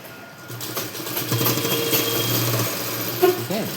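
A sewing machine runs in short bursts while stitching a blouse, a mid-loud mechanical whirr with a rhythmic buzz, close by, with a brief voice near the end.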